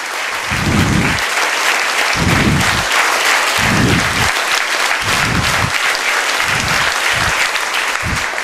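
Students at a motivation seminar clap together to open the session, a loud sustained round of applause from a large group with a few low voices breaking through.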